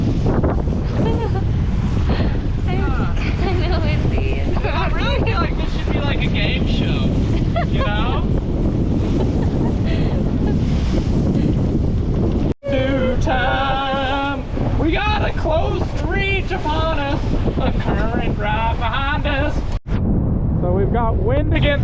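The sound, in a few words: wind while sailing a boat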